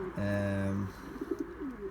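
A racing pigeon gives a short, close coo, a low harmonic call that ends quickly. Softer rustling and fainter trailing murmurs follow.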